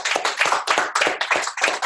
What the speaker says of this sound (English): Let's give Justino a round of applause